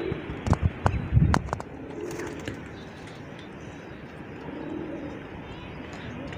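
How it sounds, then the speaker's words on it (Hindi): Pigeons roaming a rooftop coo and stir in a few close, brief bursts during the first second and a half, then fade into a steady outdoor background hum. "ये मेरे सारे कबूतर"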